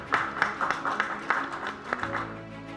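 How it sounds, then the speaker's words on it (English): Scattered claps from an audience at an award ceremony, a dozen or so distinct sharp hand claps in loose rhythm, fairly close, tapering off with a low hum remaining. "With a huge hand, please clap for him."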